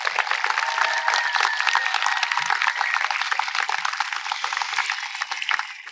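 Audience at a high school graduation ceremony applauding for the graduates, a steady crackle of many hands clapping that swells early and gradually thins out toward the end.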